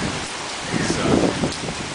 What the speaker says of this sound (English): sucks when it's raining in your house